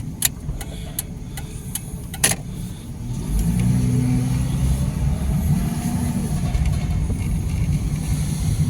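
An old Ford Mustang under restoration, newly fitted with tires, pulls out of a driveway; a steady mid-pitched engine drone builds after a few seconds of light clicks and stays fairly close and moderately loud.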